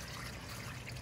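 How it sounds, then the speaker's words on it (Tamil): A little water trickles into a cooking pot, a brief faint stream of pouring liquid heard alone. "தண்ணி போடுற கொஞ்சம்"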